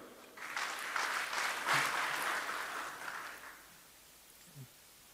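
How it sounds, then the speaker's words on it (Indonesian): Audience applause at an Indonesian official event, a soft, fairly distant wash of many hands clapping that swells and then fades out over a few seconds. "Sekali lagi tepuk tangan untuk beliau."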